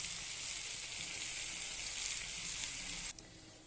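Mustard paste goes into a pan of frying pomfret fish and sets off a loud, dense sizzle. The sizzle drops sharply near the end, as if the pan was moved.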